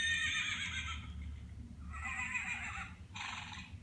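A horse neighs from a farm-animal pull-tab sound book, a recorded whinny played in three close bursts, the last ending in a soft snort, over a steady low hum with no talk.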